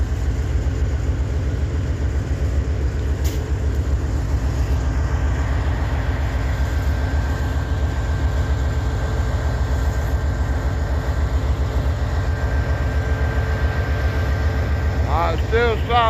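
A freight train led by two DC locomotives, including ES40DC 5233, and one AC locomotive rumbles past in Abbeville with a loud, steady low drone and rattle, a brief whistle-like tone near the end.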